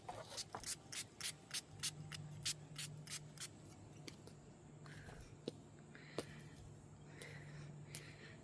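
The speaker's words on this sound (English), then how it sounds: "I'm just going to take my water and spray it to bring back the waves." A rapid series of about a dozen short water spray bursts from a pump bottle onto a wig, close and crisp, followed by quieter scattered sprays and soft rustling.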